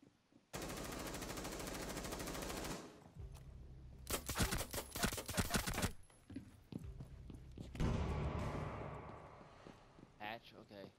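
Automatic gunfire in the tactical shooter Rainbow Six Siege, a long sustained burst followed by scattered shots and a second burst, loud and close, with a player talking between the volleys.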